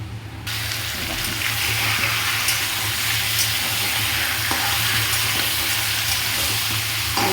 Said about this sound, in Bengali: এবারে গরম কড়াইতে এবার তেলে এটা আমি একটু ভেজে নেব মাংসটাকে